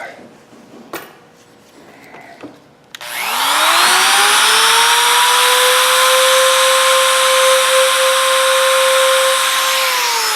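A wood router spins up and cuts a hinge recess into a wooden box, a loud steady high-pitched whine that holds for several seconds after a few quiet handling knocks.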